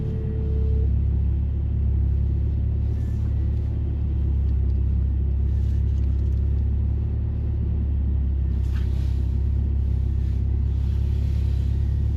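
Lotus Emira fitted with an AMG engine idling with a steady, deep low rumble while reverse parking, close and continuous, with faint movement and rustle on top and no talk.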